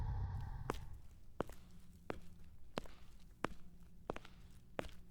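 Footsteps at a slow, even pace, about seven distinct steps in quiet surroundings, fairly close.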